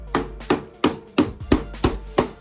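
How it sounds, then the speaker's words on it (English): A hammer strikes pieces into place in steady, evenly spaced blows, seven sharp, loud, close impacts in quick succession with no talking. "so you gotta hammer all those in"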